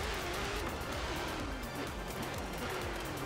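Faint, steady engine drone of an Alfa Romeo 8C Competizione driven in the Forza Horizon 4 racing game, with low rising and falling engine tones under a hiss of background noise.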